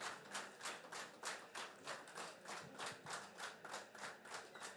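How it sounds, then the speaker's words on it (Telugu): Audience applause at a Pearlvine plan presentation event, steady rhythmic clapping from a room of people, moderately loud and continuous without talk. "గట్టిగా క్లాప్స్ కొట్టండి సార్"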